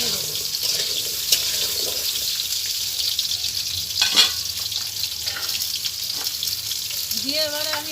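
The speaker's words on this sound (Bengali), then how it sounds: "আলুটা দিয়ে ভালো করে আমি নেড়ে দেবো।" Potatoes fry in a pan while being stirred, a soft, even sizzle broken by occasional scrapes and knocks of the spoon, with a brief voice near the end.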